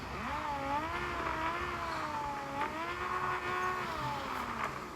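A powerful car engine in the mobile driving game Car Parking Multiplayer 2 revs and shifts through gears, its pitch sweeping up and down in a continuous synthetic whine.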